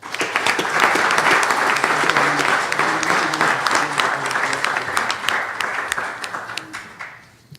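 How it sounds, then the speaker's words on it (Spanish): Loud crowd applause for an absent doctor at a genealogy conference, thick continuous clapping that swells early, holds steady, then thins and fades out in the final second. "Solicito un aplauso"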